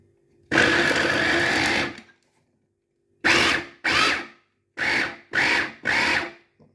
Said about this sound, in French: donc là on va mixer tout ça